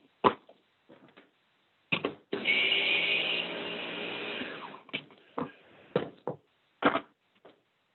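Kitchen blender whirring through a vegan spinach ricotta-style mixture for a couple of seconds, framed by sharp knocks and clatter of the jar and lid before and after the motor run.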